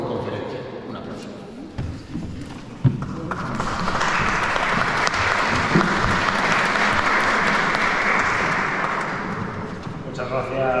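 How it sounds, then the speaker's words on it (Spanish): Audience in a lecture hall applauding after a talk about Villamediana de Iregua and the monastery of San Prudencio de Monte Laturce; steady, full clapping swells after a few seconds and holds to the end, with faint speech underneath at the start. "Un aplauso."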